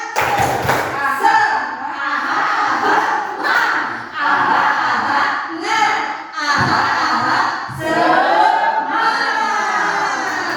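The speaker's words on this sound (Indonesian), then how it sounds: "Ayo, tepuk semangat." A group performs the rhythmic 'tepuk semangat' clapping chant in a classroom setting, with loud bursts of claps and shouted chanting repeating in sections, pausing briefly between phrases.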